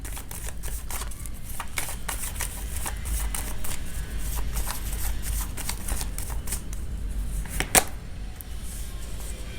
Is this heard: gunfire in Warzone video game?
no